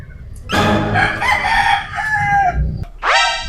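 A rooster crows loudly and close by on a farm, one long harmonic call, followed by the start of another rising crow.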